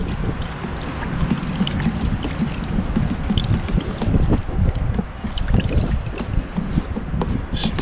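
Gusty wind on a blustery day outdoors, a loud, continuous buffeting roar with strong wind noise on the microphone throughout.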